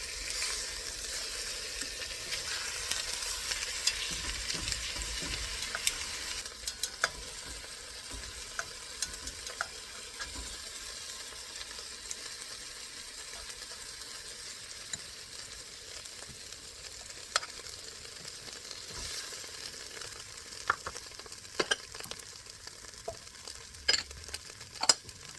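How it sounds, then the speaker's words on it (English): Steaks sear in a hot pan after being flipped, a steady close sizzle with scattered pops and spatters that continues without letup. "Now I'm going to flip them for the other side to sear."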